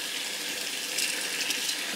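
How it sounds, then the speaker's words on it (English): Cold water runs steadily from a tap onto freshly plant-dyed fabric, a continuous broad hiss and splash without pause, close and moderately loud with no talking. "So I put cold water on it."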